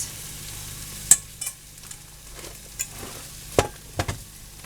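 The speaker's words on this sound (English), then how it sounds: "we are going to mix." Squash casserole ingredients being stirred together in a bowl, giving soft scraping and a few sharp spoon knocks against the side, close and fairly quiet, with no talking.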